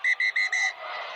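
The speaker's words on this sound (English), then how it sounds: "Whistle blown because there's a fight on halfway" Referee's whistle at a rugby match, South Africa against Wales, blown in four sharp loud blasts over a fight at halfway, followed by a rising wash of stadium crowd noise.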